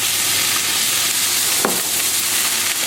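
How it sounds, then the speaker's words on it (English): Tofu cubes fry in a little vegetable oil over high heat, giving a steady, close sizzle with a brief stir or scrape partway through. "I'm just gonna fry this as if I'm making like meat. So this is on a high heat with just a little bit of vegetable oil."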